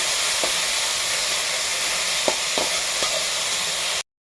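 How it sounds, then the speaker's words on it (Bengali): Moringa leaves stirred and frying in a pan, a steady bright sizzle with several short scraping knocks of the stirring utensil, close and constant before cutting off abruptly. "শাকটা দিয়ে দিলাম বন্ধুরা ভালো করে নেড়ে চেড়ে নিচ্ছি দেখুন ওপর থেকে নিচ অব্দি"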